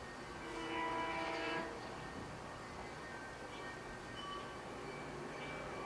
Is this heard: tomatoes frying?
no